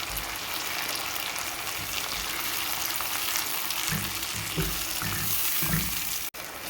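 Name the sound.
onion paste frying with translucent onions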